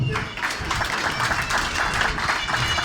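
Crowd applause at a pigeon racing club ceremony, continuous dense clapping from a gathered audience that holds steady throughout, fairly close and loud.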